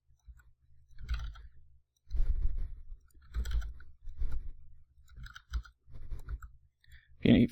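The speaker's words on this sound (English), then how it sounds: "If you hear me clicking, I'm hitting A to deselect all, or A to select all also" Keyboard keys and a mouse clicking at a computer during 3D modeling in Blender 2.6, a series of soft, close clicks in short bursts with pauses between, quiet and alone.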